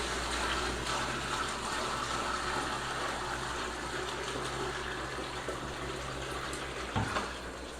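Tap water adjusted to pH 6.6 pours and gushes steadily into a hydroponics garden reservoir, a continuous soft watery rush with a low pump-like hum underneath and a small splash near the end.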